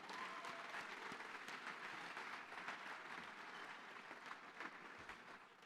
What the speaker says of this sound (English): how about a round of applause for our departed friend, Vinny Ungro.